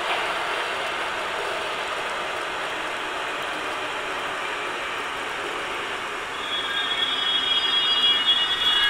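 BR 145 electric locomotive running on the Lübeck–Altona line in Microsoft Train Simulator, a steady mechanical rumble and rattle with a thin high whine rising and growing louder toward the end, no voices.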